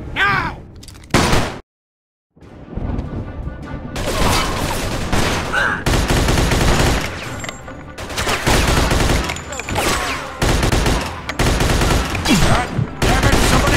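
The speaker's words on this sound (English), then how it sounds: "Let's shoot this cocksucker." Heavy close-range gunfire erupts in the Mafia II video game's final shootout, with dense overlapping automatic bursts and single shots after a brief silent gap, and shouted voices now and then amid the firing.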